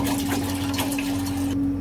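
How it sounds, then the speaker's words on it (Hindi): Water runs steadily into a cooking pot to boil rice, a continuous splashing pour with a constant low hum underneath, loud and close throughout. "पहले मैं चावल बॉयल कर लूँगा, उसके लिए पानी डालेंगे।"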